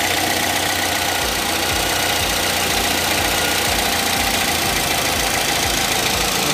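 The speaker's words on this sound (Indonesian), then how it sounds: "Yang pada pengen dilihatin kondisi mesinnya, nih suaranya halus." A modified Toyota Limo Gen 2, a former Bluebird taxi, idles with a steady, smooth engine hum and low rumble throughout, close to the microphone with no talking.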